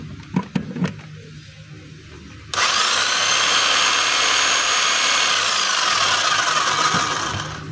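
DeWalt D25899 10 kg jack hammer switched on after a few knocks, then running in a loud, continuous, close-up roar with a bright high buzz that holds steady until it trails off at the end.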